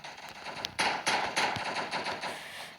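A pump-action gun fired in an outdoor shooting game, several loud cracking shots in quick succession with a noisy rushing background and no voices.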